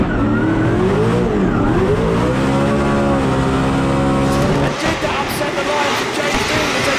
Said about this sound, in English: James Deane on the throttle, on the zone, in the wall, and on contact with Naoki Nakamura as they get across the zone